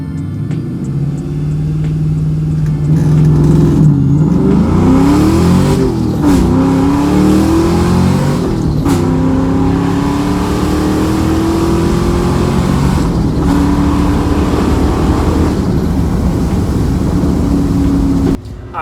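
A supercharged New Edge 2V Ford Mustang accelerates hard, its engine note rising loud and close through the gears with short shift dips, a sustained pull lasting nearly the whole stretch.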